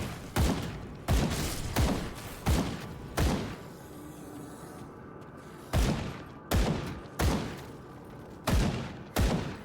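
Gunfire in the action RPG Grim Dawn: sharp, loud shots in quick bursts, a run of three, a pause, then five more evenly spaced blasts, each with a short decaying tail.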